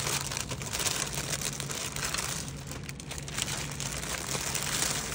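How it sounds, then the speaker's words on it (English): Plastic packaging crinkles and crackles continuously at close range while a gift is unwrapped, an irregular rustling texture with no talking. "Sorry for the crinkling for a minute."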